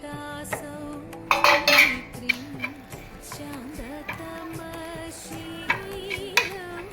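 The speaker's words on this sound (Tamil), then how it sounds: "தேங்காய் வதக்கிக்கிட்டு காட்டுறேன்" A spoon scrapes and taps against a pan while coconut is sautéed, making sparse clinks and scrapes. A brief rustling burst sits over a steady tonal hum, and the kitchen is otherwise quiet with no talk.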